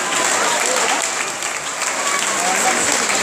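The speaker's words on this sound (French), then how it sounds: "je vous demande encore une fois de les applaudir bien bien fort" A festival crowd at a Lunar New Year celebration in Saint-Leu, Réunion applauds a Chinese cultural association, with loud, sustained, dense clapping and faint voices mixed in.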